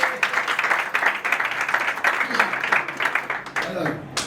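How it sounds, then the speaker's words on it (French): Wedding guests applaud the groom, a dense, steady round of clapping from a crowd that runs throughout and fades slightly at the end. "On va encore applaudir pour Maurice Junior"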